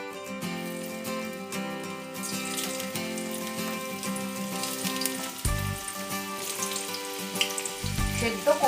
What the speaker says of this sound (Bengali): এবার এই এঁচোড়গুলোকে একটু ভেজে নেবো